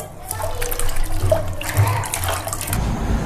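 Tap water running steadily while fresh peas are rinsed in a home kitchen, a continuous wash of splashing with a few louder gushes, fairly close.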